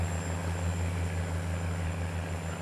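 A Fortschritt tractor engine in Farming Simulator 19 drones steadily, with a low hum and a faint high whine, constant and close, with no voices.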